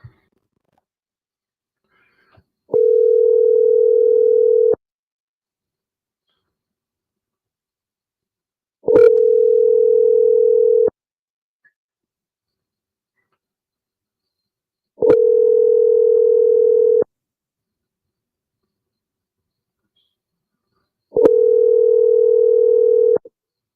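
A steady telephone tone sounds in four identical two-second bursts with long silent gaps between them, clean and fairly loud, while a call is being placed.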